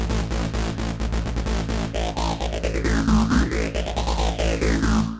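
A thick synth bass line without a phaser effect pulses in steady repeated notes while a higher synth voice sweeps up and down above it, dense and loud, no talking.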